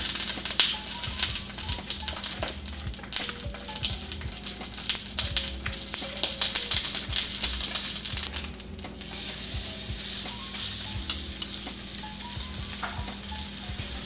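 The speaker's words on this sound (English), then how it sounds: "when you're pan frying them like this" A pork chop sizzles and crackles steadily in hot oil in a pan, a dense continuous spatter with sharper pops, close and fairly loud, no talking.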